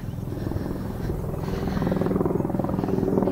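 A helicopter's rotor thumps in a rapid steady chop, growing slightly louder as it passes overhead, with no voices.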